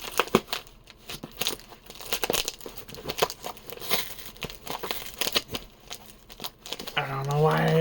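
Packing tape being torn and peeled off a cardboard box of handheld game consoles, irregular crackling rips and crinkles close by, with a person talking over it and a louder stretch near the end.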